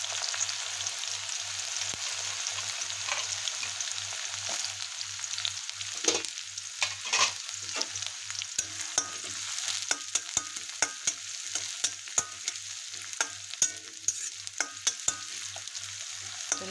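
Finely chopped onions sauté in oil with garlic and ginger, giving a steady low sizzle throughout. Sharp clicks from a stirring spoon against the pan grow more frequent toward the end.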